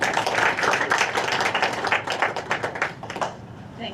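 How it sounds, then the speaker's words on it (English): Applause from an audience at a school district Board of Education meeting, a dense patter of hand claps that holds steady and fairly close, then thins out and fades over the final second with no talking. "Let's give them a round of applause, please."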